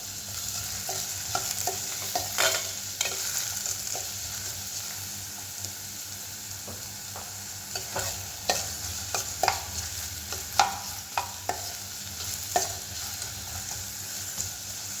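Chopped onion being sautéed in a pan for a vegetable bread roll filling, a continuous soft sizzle punctuated by repeated spatula scrapes and taps.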